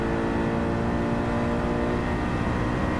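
A muscle car engine in Gran Turismo 7 holds a steady, loud revving drone during wheel spin on a damp track, sustained and close with no talking.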